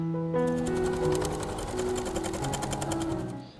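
A sewing machine stitches fabric onto an upcycled denim hobo bag, its rapid, even needle chatter running in a steady close burst for about three seconds before stopping.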